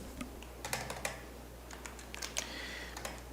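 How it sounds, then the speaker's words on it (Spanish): Typing a comma and pressing Enter on a computer keyboard: a loose run of light, close key clicks at irregular intervals over a steady low background hum. "vamos a agregar una coma y vamos a pulsar un Enter"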